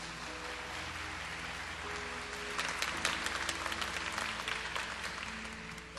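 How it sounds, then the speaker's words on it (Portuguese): A Catholic church congregation breaks into applause after the Gospel reading, a soft, steady patter of many hands that swells midway and then eases, heard at a distance in a reverberant hall. "Vamos aplaudir a palavra do Senhor."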